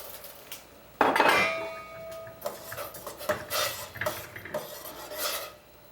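A utensil stirs rice into a pan of boiling water on a stovetop, with a sharp initial clang followed by scraping metallic clinks and rattles, close and fairly quiet, no talking.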